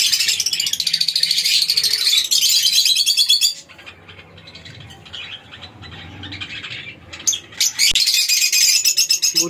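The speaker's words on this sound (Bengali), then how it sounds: "লাভবার্ডের ঠিক ওপরে রয়েছে আমার বদ্রি পাখি" Pet budgerigars and lovebirds in a home breeding setup chirp continuously and close by in a dense, busy chatter that dips partway through and then picks up again.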